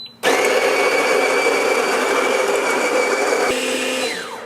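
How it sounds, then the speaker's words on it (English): An electric burr coffee grinder runs steadily at close range, grinding beans coarse for French press in one continuous loud whir that starts abruptly, shifts pitch near the end and winds down. "I'm just gonna press go and it's gonna grind it for me"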